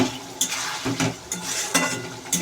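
Chicken is stir-fried in a pan ahead of cabbage, with a steady sizzle under repeated sharp scrapes of a spatula against the pan every half second or so.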